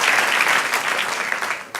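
A church congregation bursts into applause, a dense, steady clatter of many hands clapping that fills the room for a couple of seconds before dropping off sharply at the end.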